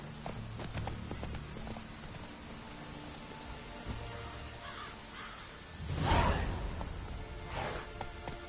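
Geralt's horse Roach trots along in The Witcher 3, with a steady clip-clop of hooves under game ambience, a faint crow caw in the background and a brief whooshing swell partway through.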